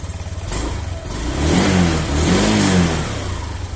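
A Honda Vario 125 scooter with a weak battery cranks on its electric starter and catches, a loud close engine note rising into a rev and settling back down, with no talk.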